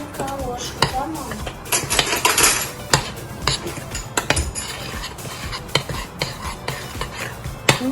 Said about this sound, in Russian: Перемешиваем. И сейчас будем выложить ложечки